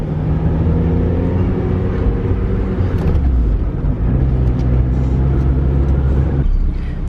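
Steady low engine and road rumble from inside a Mazda Miata driving along, loud and unbroken with a slight shift in tone partway through.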